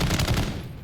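A RAAL LMG machine gun fires at zombies in a video game: a brief, loud rapid burst of automatic fire that cuts off and decays.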